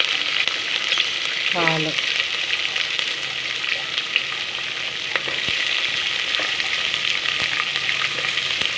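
Lentils, peanuts and green chillies frying in hot oil give a steady, dense sizzle that runs the whole time, with a brief clink of a utensil early on.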